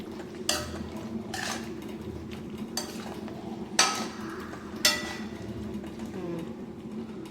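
Pepper chicken being stirred in a pan, with soft steady frying underneath and a handful of distinct metallic spoon clinks and scrapes spaced a second or so apart, close and moderately quiet.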